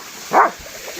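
A single short bark from Luna the dog, sharp and moderately loud against steady outdoor background noise near a hidden waterfall in Kodaikanal.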